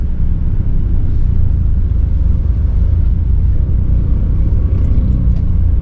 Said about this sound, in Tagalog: Grabe dito banda, ang daming tricycle.